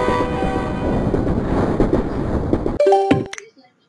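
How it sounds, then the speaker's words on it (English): A long train rolls past on rail tracks, a loud, steady rumble of wagons with clattering that cuts off abruptly near the end, followed by a few brief tonal horn-like notes before fading out. "It's a long train and out."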